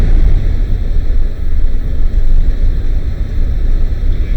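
A 1968 Volkswagen Type 3 engine with fuel injection idles low while warming up, a steady close rumble with the engine cover on and no talk over it.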